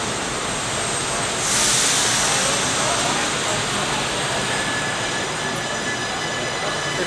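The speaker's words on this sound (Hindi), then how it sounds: "डबल डेकर ट्रेन है, देखो." A double-decker train at Brussels Central railway station gives off a steady, close rail rumble and hiss that swells briefly near the start, then holds level throughout.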